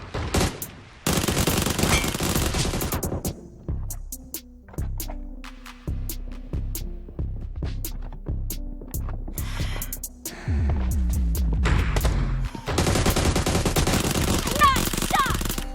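Gunfire in the battle royale game PUBG: loud bursts of automatic fire and single rifle shots with ringing tails, separated by short quiet gaps, and heavy sustained volleys at the start and end.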